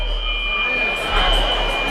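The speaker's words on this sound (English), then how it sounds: "You're checking the fire alarm that was pulled?" Fire alarm sounding in a hockey arena, a steady high-pitched electronic tone droning continuously over a low rumble of the rink, with people talking nearby.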